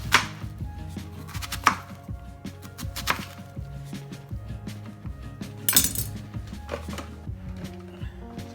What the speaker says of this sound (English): I'm chopping up the remaining onion